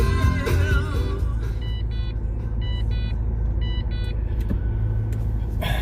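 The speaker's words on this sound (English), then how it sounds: "Taking my dad's GTO. 2006 GTO. 400 horsepower." A 2006 Pontiac GTO with a 400-horsepower engine idles with a deep, steady low rumble close by, while a few brief electronic beeps sound over it.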